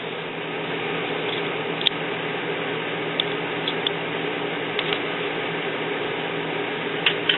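An Epson XP-600 or XP-800 inkjet printer runs its nozzle cleaning cycle: a steady mechanical whir and hum with a few faint clicks and ticks scattered through it, even and close, with no voices.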